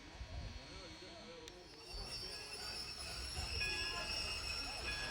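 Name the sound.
Virginia & Truckee Railroad train moving on the tracks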